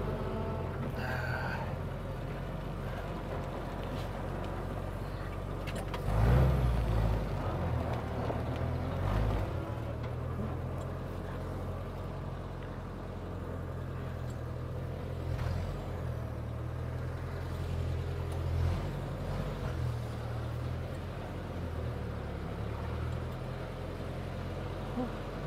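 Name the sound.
Jeep M38 engine running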